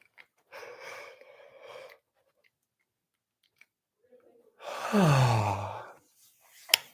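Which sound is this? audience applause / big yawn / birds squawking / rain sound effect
big yawn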